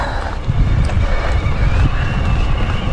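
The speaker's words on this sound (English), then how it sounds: "Bloody windy today." Strong wind buffets the microphone during an e-bike ride on an old road on the Ladybower loop in the Peak District, giving a loud, low rumbling roar in uneven gusts with no talk.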